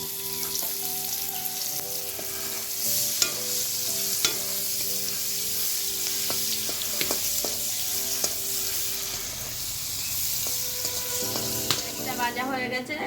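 Chopped onion sizzles steadily in the oil left over from frying hilsa fish, with frequent stirring clinks and scrapes running through the whole stretch.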